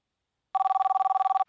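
A telephone rings on an outgoing call, a steady electronic warble of rapid pulses heard once, clear and alone, cut off as the line connects.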